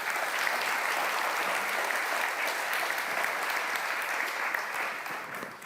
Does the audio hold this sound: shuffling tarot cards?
no